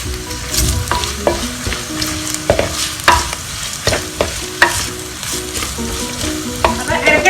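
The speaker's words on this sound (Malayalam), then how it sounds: "ഇനി നമുക്ക് ഇതിലേക്ക് കയ്പക്കായ അരിഞ്ഞു വെച്ചത് എല്ലാം ഇട്ട് കൊടുക്കാം. എന്നിട്ട് ഇത് നന്നായിട്ട് നമ്മൾ വഴറ്റിയെടുക്കാം." Chopped bitter gourd sautéed with ginger and chili in a pan for pavakka pulinji, a loud steady sizzle broken by repeated sharp clacks and scrapes of a spoon stirring against the pan, close up and free of speech.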